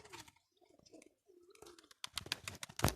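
Soft, low pigeon cooing murmurs in short phrases, then a flurry of sharper rustling and fluttering noises closes out the moment.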